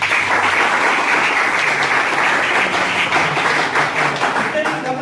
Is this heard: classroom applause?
yes